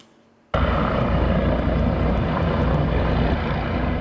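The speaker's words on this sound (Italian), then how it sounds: "È intervenuto anche l'elicottero del SUEM 118 partito da Treviso" Quiet at first, then an abrupt loud, steady roar of a rescue helicopter's engine and rotor close by, continuing without pause.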